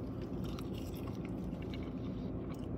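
Close, quiet chewing and biting of Wienerschnitzel chili cheese fries, soft moist munching that continues without pause and without talking.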